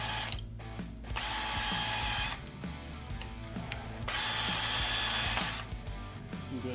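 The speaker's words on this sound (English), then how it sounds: "No, clean the holes this time. Make it a little easier. Wire brush is your friend." A wire brush scrubs out the bolt holes on a third-generation Camaro door hinge in repeated rapid bursts of harsh scratching, with short pauses between strokes, close by and with no talking.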